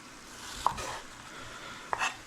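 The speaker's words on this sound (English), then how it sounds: "We're gonna give some nice big slices of onion." Big slices of onion sizzle in a pan with a steady, close hiss, broken by two brief metallic clinks of a utensil against the pan.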